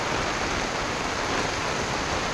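Heavy monsoon rain pours down in Mahabaleshwar as a dense, loud, unbroken hiss and patter of drops hitting surfaces, steady throughout with no voices.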